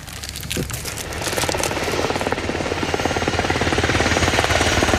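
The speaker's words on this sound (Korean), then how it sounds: "잠시 후 구조 헬기도 도착했다." A military rescue helicopter arrives in Afghanistan to evacuate a wounded man to the Kandahar military hospital. Its rotor chop grows steadily louder and closer into a loud, rapid, continuous thumping roar.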